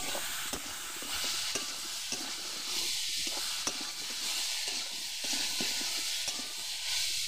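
Ginger and cumin hit a hot pan while cooking a jiyol fish dish, giving a steady close sizzle and hiss with light stirring scrapes throughout, no talk.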